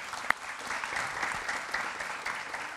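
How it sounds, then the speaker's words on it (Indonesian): A television studio audience claps continuously through the whole stretch, a lively, even burst of applause with one sharp louder clap near the start. "Saya minta tepuk tangannya dulu untuk Ferry Amsari."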